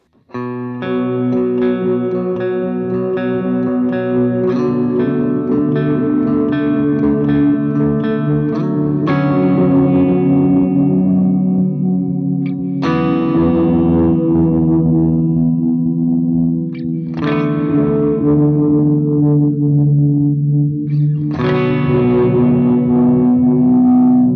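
Electric guitar chords through an OBNE Bathing Liminal delay pedal ring out in a lush, washed-out pad reverb, each strum swelling into a long shimmering tail that blends into the next.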